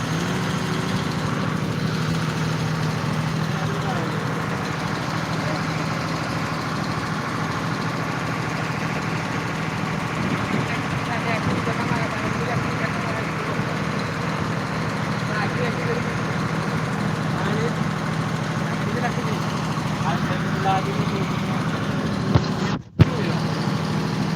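A sand lifting machine's engine hums steadily at moderate distance while pumping sand, a continuous droning motor with little variation and one brief knock near the end.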